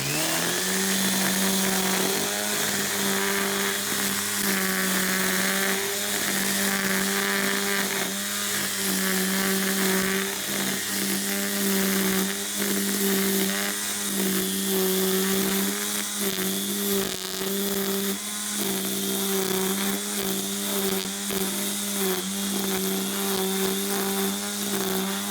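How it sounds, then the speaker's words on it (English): An Ego 56V cordless brush cutter with a bump-feed rapid-load line head spins steadily at high speed, giving a loud, continuous motor whine with a strong, even pitch that holds unbroken throughout. "as it's spinning, it goes past the blade here and cuts it to size if you've bumped out too much of the line"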